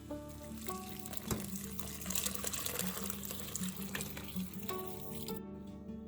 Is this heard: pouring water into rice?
yes